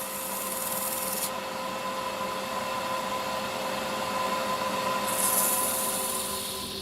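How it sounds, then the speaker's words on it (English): Steady abrasive whir of finish sanding on a wooden goblet spinning on a lathe, a continuous rubbing hiss over motor hum with a brighter scratchy edge near the end, no talk. "Here we go, doing some finishing sanding."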